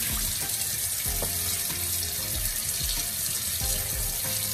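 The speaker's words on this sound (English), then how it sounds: "Just gonna rinse that off again." Tap water runs steadily into a sink as oxtail meat is rinsed under it, a close, continuous splashing rush with small irregular knocks from handling the meat.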